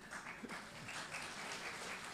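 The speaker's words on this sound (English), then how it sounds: "you need to clap for that." Audience applause at a memorial service, a steady wash of many hands clapping that fills the whole stretch at an even, moderately distant level without pauses.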